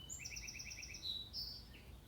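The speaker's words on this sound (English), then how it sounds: "I went outside and the birds were chirping and I didn't want to scare them" Birds chirp outdoors in quick, high repeated trills and a few sliding tweets over a faint low rumble.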